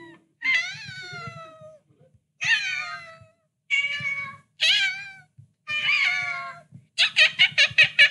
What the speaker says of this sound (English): cat noise